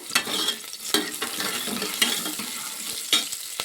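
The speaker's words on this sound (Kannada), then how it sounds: "ಈರುಳ್ಳಿ ಕಂದು ಬಣ್ಣ ಬರೋ ತನಕ ಬೇಯಿಸ್ಕೊಬೇಕು ಸಾಕು" Chopped onions frying in a pan for a village-style hitikida avarekalu saaru (field bean curry), a steady crackling sizzle broken by a few sharp stirring scrapes and clicks, close and moderately loud with no talking.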